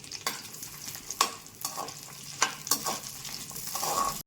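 Chopped green chillies sizzle in hot oil close up, with several sharp scrapes and knocks as a spatula stirs them in a pan, and no one talking.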